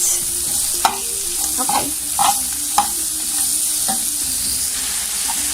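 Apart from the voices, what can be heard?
onions and tomato frying while being stirred and tossed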